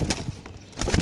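White Lakkha pigeons coo in short bursts near the start and again at the end, with a soft rustling gap between the calls.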